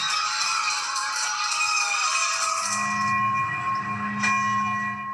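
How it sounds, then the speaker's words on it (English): Church bells ring at Villanova University outside Philadelphia, sustained ringing tones layered over one another and fairly loud, with a steady low hum coming in toward the end. "Outside Philadelphia, bells ringing in Pope Leo's honor at Villanova University"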